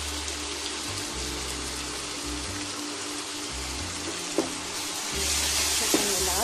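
Chili and spice powders for a banana flower curry sizzling and frying in a pan, a steady close crackle that gets brighter and louder near the end, with a few soft clinks of stirring.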